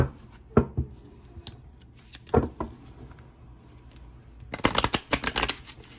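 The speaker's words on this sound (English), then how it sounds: "I'm going to pull a couple love cards now" A tarot-style love card deck is handled and cards are pulled, with a few crisp flicks and slides early on, then a rapid burst of riffling shuffle near the end, close and dry.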